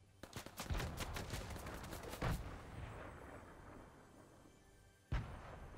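A rapid burst of pistol gunshots in Fortnite crackles early, a few more shots follow, then a single loud shot near the end, all with synthetic game-like punch.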